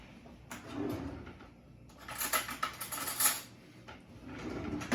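A spoon fetched from a kitchen drawer: the drawer slides, cutlery clatters and jingles as it is rummaged, then more metal rattling, close by with no talk.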